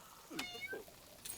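A huge cat in the Inn Tycoon medieval management game, animated on a dog's skeleton, gives two short close meows with falling pitch, followed by a brief high chirp, over faint background sound.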